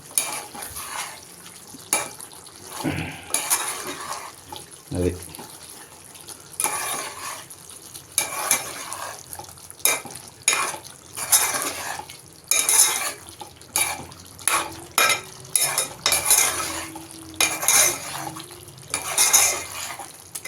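A spoon stirring chicken curry in a pan, with repeated scraping and clinking strokes in an irregular rhythm, some sharper knocks against the metal, and a faint sizzle between strokes. The sound is close and moderately loud, with no talking.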